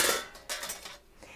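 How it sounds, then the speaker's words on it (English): The metal lid of a stovetop canner pot comes off with light clinks and a brief scrape of metal, close by and fairly soft, during jalapeño jelly canning. "I'm gonna go ahead and take this little cover off."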